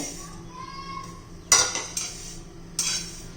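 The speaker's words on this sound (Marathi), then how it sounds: "आता आपण हे काळं जिरं पण भाजून घेणार आहे" Black cumin seeds dry roast in a pan, with a faint low hiss broken by a few sharp metallic clinks and scrapes of a spoon against the pan, close and with no talk.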